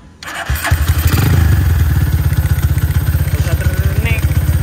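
A GL-100 motorcycle engine is started and catches at once, settling into a loud, steady, rapidly pulsing idle that runs close by for the rest of the moment.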